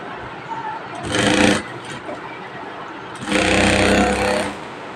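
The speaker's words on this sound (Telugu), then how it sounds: "ఇప్పుడు మనం స్టిచ్ చేస్తున్నాం కాబట్టి" A sewing machine stitching petticoat fabric runs in two loud bursts, each about a second long, with quieter pauses between them.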